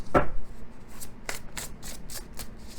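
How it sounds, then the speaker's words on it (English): Oracle cards being shuffled by hand in a quiet room, a series of soft papery riffling swishes and rubs, close and moderately loud, with no voices. "I'm going to shuffle these up really well"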